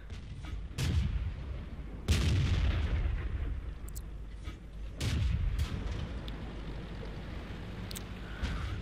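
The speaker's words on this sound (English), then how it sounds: "So there's only a SAU firing at me." Self-propelled artillery firing in the World of Tanks video game, heard as a few heavy booming shots at irregular intervals over a constant rumbling battlefield background, with no talk.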